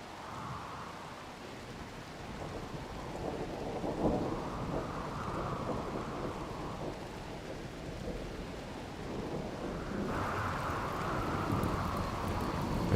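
A thunderstorm with steady heavy rain in the video game Rimworld, a broad continuous wash of rainfall with low rolling thunder swelling and easing throughout.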